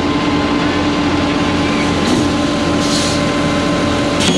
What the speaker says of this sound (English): First truck is backing in.